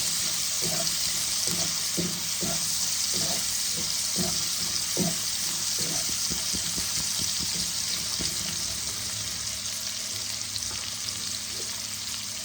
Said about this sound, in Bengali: ভালো করে পেঁয়াজটাকে লাল লাল করে ভাজবো।